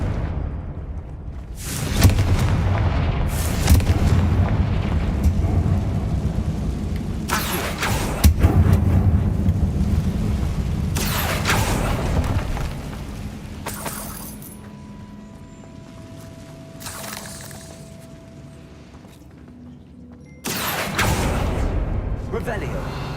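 Confringo spell blasts in the video game Hogwarts Legacy come as several loud, sharp explosive bursts spread across the clip, with game sounds in between and no spoken words.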